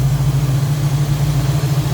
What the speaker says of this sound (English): Very smooth running engine